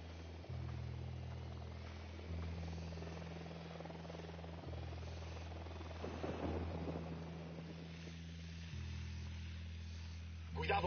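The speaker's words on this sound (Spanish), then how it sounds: "un helicóptero de la unidad." A helicopter in a video game drones steadily with a deep, pulsing rotor hum, close and continuous, while voices talk intermittently over it.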